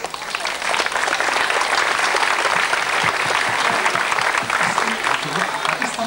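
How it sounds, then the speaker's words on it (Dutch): Loud, dense applause from an outdoor street theatre audience in Horst in 1994, cheering a DJ, sustained and even at close range for several seconds. "Philippe discjockey van Anders Kriebelkaal, een schitterend applaus!"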